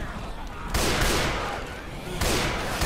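Gunfire in the video game Left 4 Dead 2, loud bursts of rapid shots that start abruptly and keep going, broken by a brief lull before another burst.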